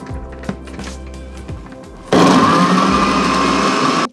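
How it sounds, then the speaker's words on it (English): A few soft knocks and clunks, then a blender motor roars on loudly and grinds chickpeas steadily for about two seconds before cutting off. "So we're going to blend these up first."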